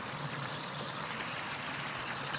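A waterfall roars as a steady, broadband rushing wash of falling water, close and constant with no pauses, no voices over it.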